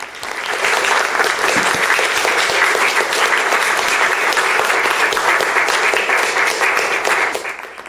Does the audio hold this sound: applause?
yes